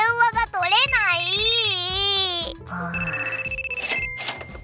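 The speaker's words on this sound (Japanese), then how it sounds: "あ、電話がかかってきた。" A phone rings with a bright electronic ringtone in an animated cartoon scene, over busy music and sound effects, with a child-like cartoon voice babbling at the start.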